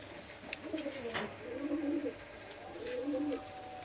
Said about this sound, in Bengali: এই দেখেন এক পেয়ার কবুতর আমি দেখাচ্ছি